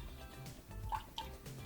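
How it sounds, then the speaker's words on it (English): About a quarter cup of colored vinegar is poured into a separate container for a baking soda potion, giving a faint, soft dribble with a few light drips against quiet background noise. "I'm just going to use a separate container for my vinegar, and I'm just going to pour a little bit in."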